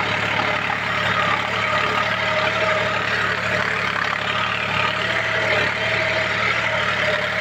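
A John Deere 5105 tractor engine runs at a steady, loud, continuous drone with a low rumble and no pauses, heard up close in a field while ploughing with a cultivator.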